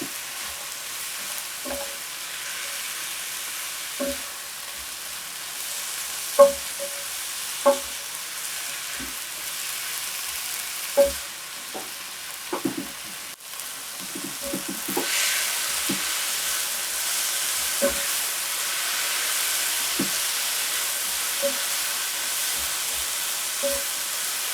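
Okra and tomato sizzle in a hot pan while cooking a Caribbean brown stew snapper, with a steady frying hiss broken by sharp clinks and scrapes of stirring that come every few seconds.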